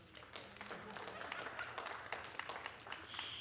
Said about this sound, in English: You know, give my son a round of applause.